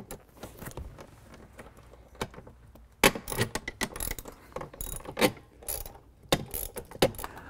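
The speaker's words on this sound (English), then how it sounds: "And now take out these 2 screws in the back." Tool work on the rear seat of a Land Rover LR3 (Discovery 3): close ratchet clicking comes in irregular bursts with metallic taps and rattles, starting quiet and growing busier, with no talk.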